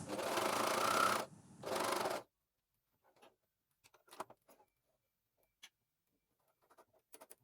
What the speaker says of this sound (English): cover stitch through all the layers, the shell and the seam allowances